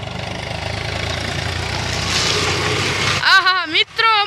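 A tractor engine idles with a steady mid-low rumble and rattle for about three seconds, then loud excited voices and laughter break in over it near the end.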